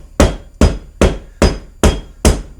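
Rough puff pastry dough beaten hard with a rolling pin: six heavy, evenly spaced thwacks, loud and close, each with a short decaying tail.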